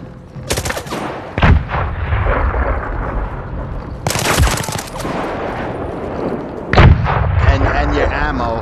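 Loud, sharp gunfire from the VR shooter video game Zero Caliber 2 in co-op play, with several heavy shots and bursts spread across the clip over a constant rumbling battle background.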